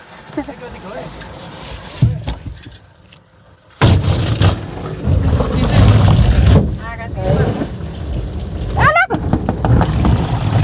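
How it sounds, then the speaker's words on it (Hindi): A thick car-wash pipe blasts heavy water onto a car, a loud broadband rushing spray that stops briefly and then resumes strongly, close to the microphone, with someone talking at points. "यहाँ पर एक मोटा सा पाइप लगा हुआ है, गाड़ी धोने वाला है।"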